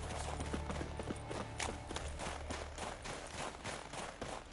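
Horse hooves trotting at a steady pace in The Witcher 3, a rhythmic clip-clop over faint game ambience.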